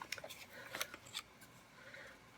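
A paper trimmer cutting cardstock for a Christmas card, giving a few quick, faint snipping and sliding clicks close by in a quiet room.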